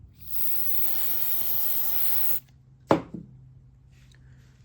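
A sustained hiss of aerosol spray wax being sprayed onto .223 Remington cartridge cases for reloading runs for a couple of seconds, then stops, followed by a sharp knock and faint handling noises.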